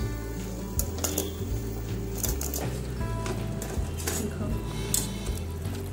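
Sliced bitter gourd boiling in salted water with a little baking soda, a steady bubbling hiss with occasional clinks and stirring noises from the pot.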